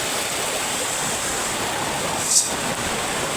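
Heavy rainwater rushes across village fields in a continuous, loud, dense roar of flowing water, close and unbroken throughout.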